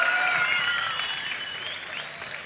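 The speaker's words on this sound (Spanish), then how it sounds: "Dale un fuerte aplauso, vamos." A church crowd applauds the speaker's wife after she steps onstage, a steady wash of clapping heard from a distance that slowly fades, with voices faintly mixed in.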